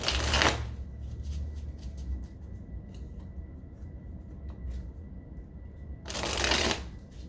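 Tarot cards are riffled and shuffled in two loud bursts at the start and near the end, with softer card handling and light rustling in between.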